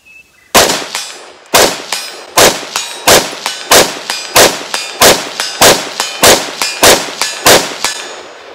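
Bullets from a 12.5-inch 5.56 rifle ringing a steel target at range: about a dozen loud, sharp metallic clangs in a quick, fairly regular rhythm, each with a short ring, no talking.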